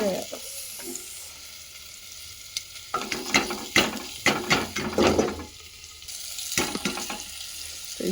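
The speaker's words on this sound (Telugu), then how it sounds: "ఆల్రెడీ కట్ చేసి పెట్టుకున్న ముక్కలన్నీ వేసేద్దాం" Pre-cut amla pieces go into a hot pan for murabba and crackle in a steady sizzle, with bursts of scraping stirring and clinking close by.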